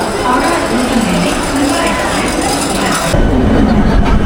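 A Katwa local train pulls out of Howrah station, its steady rumble and rattling wheels rolling continuously at close range, with a sudden shift in the mechanical noise near the end.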